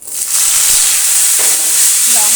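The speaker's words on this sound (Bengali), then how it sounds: "এবার আলুটাকেও কিন্তু আমি ভালো করে নেড়ে নেড়ে ভেজে নেব।" Potato pieces fry in hot oil with green chilli and panch phoron, giving a loud, steady broadband sizzle throughout with a brief scrape of stirring near the end.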